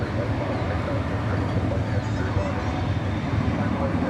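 An airliner departs DFW Airport at night, its engines a broad steady roar that stays loud and close throughout, with someone talking over it.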